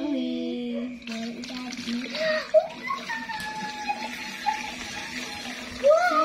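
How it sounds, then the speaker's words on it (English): Water pours and splashes into a sailfin lizard enclosure in short bursts, while a child and an adult talk close by over the sloshing. "Let's put some water in it."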